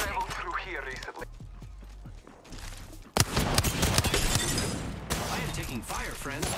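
Gunfire rattles in a squads shooter video game, sharp bursts breaking out in a dense volley partway through amid shifting game sounds, with voices talking over it.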